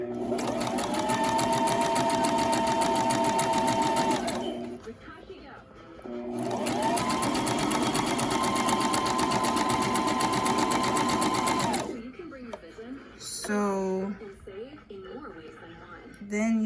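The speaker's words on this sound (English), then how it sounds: "you encase the fabric inside the zigzag stitch" A domestic sewing machine runs a zigzag stitch around encased fabric at an overgarment seam, its steady whirring chatter in two long bursts separated by a pause, followed by brief clicks and handling noises.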